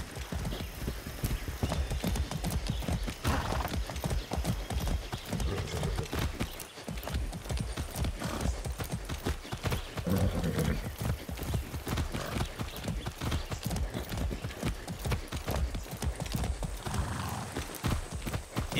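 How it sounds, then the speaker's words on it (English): Horse being ridden in Far Cry 6, steady clip-clop hoofbeats at a trotting rhythm close up throughout, with occasional snorts and a whinny. "I haven't ridden a horse since basic training."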